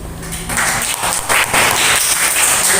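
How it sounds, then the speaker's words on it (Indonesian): Classroom applause, a dense burst of many hands clapping close by, loud and continuous for a few seconds. "Masih di aplaus."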